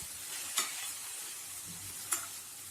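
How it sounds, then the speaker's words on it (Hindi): French beans, grated carrot and finely chopped cabbage stir-frying on a high flame make a constant sizzling hiss, broken by two quick spatula clacks, close and unaccompanied by speech. "हाई फ्लेम पे इसे अच्छे से भून लें,"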